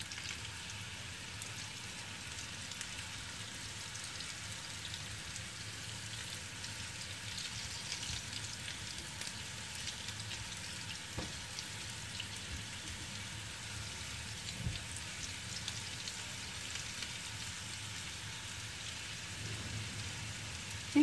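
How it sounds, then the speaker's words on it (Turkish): Potatoes sauté in a pan with a soft, continuous sizzle and crackle, quiet and steady throughout. "Burada kavuruyoruz biraz."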